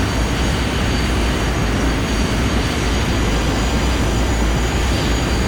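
A Boeing 737 jet airliner approaching to land on runway 6R, a loud, steady broadband engine roar that fills the whole stretch without letup, with no voices over it.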